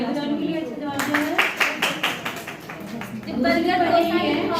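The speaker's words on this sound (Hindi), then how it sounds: "ताली बजाओ उनके लिए" Children in a school training session clap in a burst of several seconds, a dense patter of hand claps mixed with talk from a teacher before and after.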